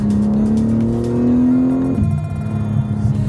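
A BMW M3's engine revs hard while driving, a loud, rising drone that climbs steadily for about two seconds, then drops sharply as the revs fall away and settles into a rougher, lower rumble, heard close from inside the car.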